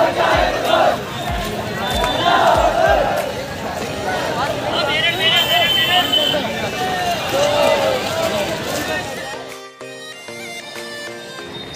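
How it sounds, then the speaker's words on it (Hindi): A dense crowd pours out of the Ala Hazrat dargah after the urs festival ends, surging close to a stampede: loud, continuous babble of many voices with scattered shouts and a few low thumps, fading slightly near the end. "सब भीड़ एकदम से निकल के आई है और मैं आपको दिखा दूँ, एकदम से भगदड़ जैसी मच रही है"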